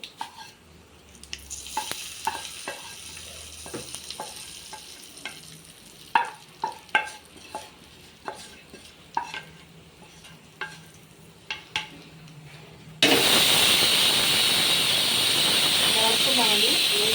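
Quiet scraping and tapping of a spoon in a pan, then a sudden loud, steady sizzle as hot tempering is poured into brinjal chutney near the end.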